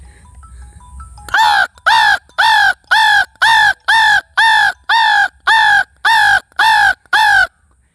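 A man imitates a crow, cawing about eleven times in a loud, steady rhythm of harsh, evenly spaced calls close to the listener.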